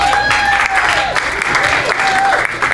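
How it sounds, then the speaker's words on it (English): Wedding guests at a reception applaud the mother of the groom, a loud continuous wash of clapping with music playing underneath throughout. "Give her a nice round of applause."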